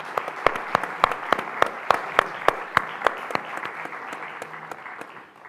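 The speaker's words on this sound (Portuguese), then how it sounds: "Uma salva de palmas, se faz favor." Audience applause at a live literary and music event, a steady burst of many hands clapping that is loudest early and gradually thins and fades over several seconds, with no voices.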